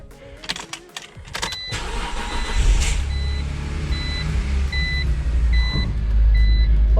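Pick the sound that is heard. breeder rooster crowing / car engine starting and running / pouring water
car engine starting and running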